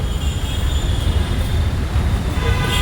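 A train sits at a station after passengers have stepped off, giving a steady low rumble with a faint high whine above it. The sound is continuous and moderately loud, and no one speaks.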